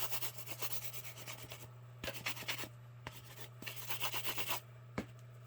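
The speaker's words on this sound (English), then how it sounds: "I'm just going to give it a quick light sand" Light hand sanding of cured resin on a pair of shears, heard as close, soft scratchy rubbing strokes in uneven bursts with brief pauses and a quiet steady hum underneath.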